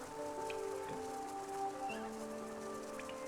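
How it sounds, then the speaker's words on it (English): Soft rain patters in the background of a Hollow Knight game scene, a gentle steady hiss of drops under quiet sustained woodwind and piano music tones. "You have the soft pattering of rain in the background"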